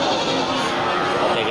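Goats and sheep bleat amid a busy livestock market before the Qurban sacrifice festival, a dense, continuous wash of animal calls and crowd voices filling the space without pause.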